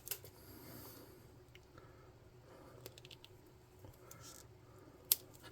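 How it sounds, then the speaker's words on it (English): Scissors snip side flaps off a model helmet with a few soft, quiet cuts, followed by one sharper snip near the end, close-up and without talking. "Let's snip these little side flaps off of his helmet."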